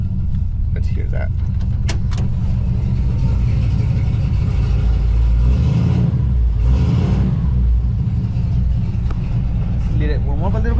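An automatic Ford Fox body Mustang engine idles close by with a deep, steady rumble and slight swells in pitch, while voices speak under the noise.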